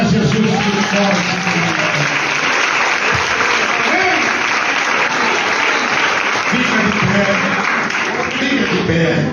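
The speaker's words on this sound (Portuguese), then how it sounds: "palmas para Jesus muito forte" A church congregation at a men's congress claps loudly and continuously, a dense sustained wall of hands that fills the room, with voices mixed in underneath.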